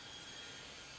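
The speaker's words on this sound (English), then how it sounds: "That sound is my husband using a saw." A handsaw worked by hand during renovation of a fixer-upper house, giving a continuous, fairly quiet rasping scrape across the whole second with no talking.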